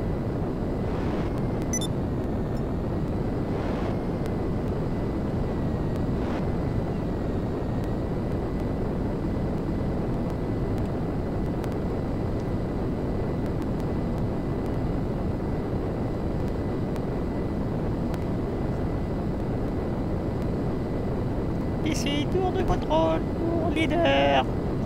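Propeller aircraft engine in GTA Online droning steadily near an airfield runway, a continuous mid-low hum with wind rush throughout and brief higher chirps near the end.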